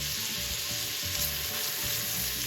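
Chicken and carrots fry in desi ghee inside a pressure cooker, giving a steady close sizzle with soft scraping stir noises underneath and no voices.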